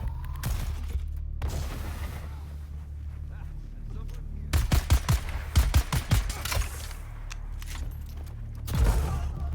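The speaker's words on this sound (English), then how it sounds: "Ooh, I get to try my rifle out." Rifle gunfire in the survival video game Dune: Awakening: a rapid cluster of sharp shots around the middle, with a few more bursts near the end, over a steady low game ambience.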